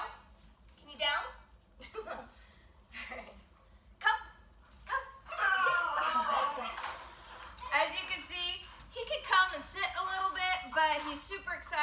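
A six-month-old Vizsla puppy barks and yips excitedly in short bursts that build into a steady run of yelps, close to the mic, with a person talking between the barks.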